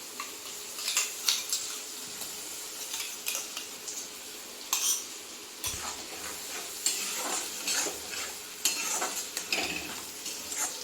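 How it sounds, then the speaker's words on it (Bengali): Tomato paste going into a frying pan of vegetarian potato and pointed gourd korma, with irregular spoon scrapes and clinks against the pan over a soft steady sizzle, close up and no voices. "এবার আমি টমেটো পেস্টটা দিয়ে দিচ্ছি।"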